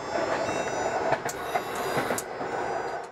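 An old passenger train carriage, over twenty years in service, rolls along the rails with a steady rumbling clatter and faint squeaks and knocks, heard from inside, with no voices.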